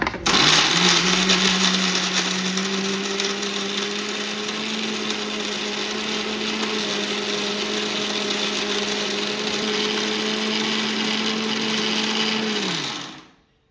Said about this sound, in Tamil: ஜாரில் போட்டு அரைக்க வேண்டியதுதான்.